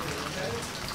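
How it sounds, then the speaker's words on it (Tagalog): Steady rain dripping and pattering through a leaking roof during wet weather, a dense continuous hiss of drops heard close, with faint voices underneath. "tumutulo pa yung bubong namin"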